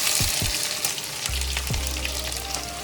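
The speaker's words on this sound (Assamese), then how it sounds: "তেল এতিয়া গৰম হ'ল তো এতিয়া আমি পিঁয়াজ ঢালি দিম" Onions dropped into hot oil sizzle loudly and steadily, with a couple of clinks and stirring scrapes at the start, the frying close and continuous throughout.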